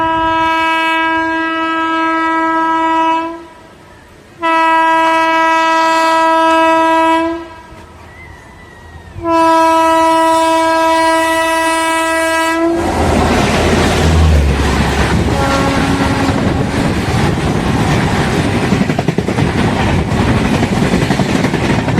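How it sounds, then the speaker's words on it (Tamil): Mysore-bound express train passing a waiting train at a crossing station, announced by three long, loud horn blasts separated by brief pauses, then a near, roaring rush of wagons clattering past. "தூத்துக்குடியிலேருந்து மைசூர் போகக்கூடிய அந்த எக்ஸ்பிரஸ்க்காக தான் நம்ம வெயிட் பண்ணிட்டு இருக்கோம்."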